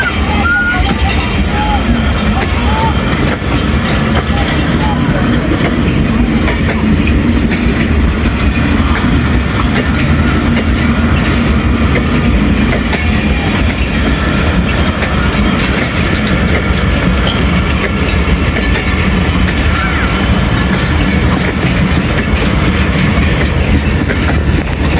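The Khyber Mail passenger train pulls out of Attock City Junction, its wheels clattering in a loud, steady rumble with rhythmic clickety-clack close by, while a crowd's babble and voices carry faintly underneath throughout.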